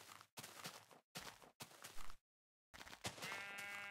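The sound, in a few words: sheep bleating in the video game Minecraft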